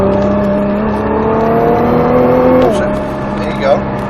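A Nissan GT-R accelerates hard on a track, its engine note climbing steadily before a brief drop at the upshift, loud and close, with a voice over it.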